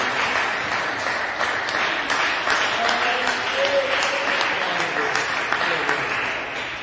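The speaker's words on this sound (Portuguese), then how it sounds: "dê uma salva de palmas bem alegre para Jesus" A church congregation claps in a joyful round of applause for Jesus, dense and sustained throughout, full and close, with no talking over it.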